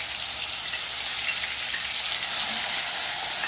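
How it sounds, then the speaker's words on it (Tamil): Soaked garlic, fenugreek seeds and curry leaves sizzle and fry in a hot pan with oil, a loud steady crackling hiss close up. "எல்லாத்தையும் சேர்த்து வதக்கி விடுங்க."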